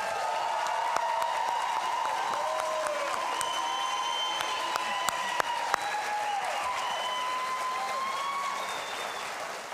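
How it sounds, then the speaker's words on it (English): A crowd at the 2023 West Auburn graduation ceremony applauds the graduating class with sustained clapping and some cheers and whistles. Bright whistle tones rise above the dense, steady noise of many hands. "Let's give the class of 23 one more round of applause."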